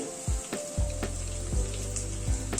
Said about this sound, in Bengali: গাজরটা অ্যাড করে দিচ্ছি